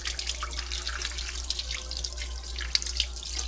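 Cold water runs from a kitchen tap, a steady splashing hiss streaming into the sink, fairly quiet and continuous with small bursts of spatter.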